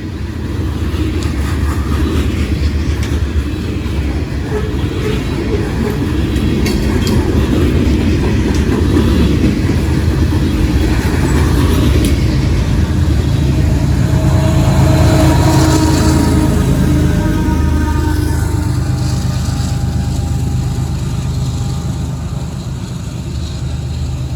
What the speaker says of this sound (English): That was a good coal train there.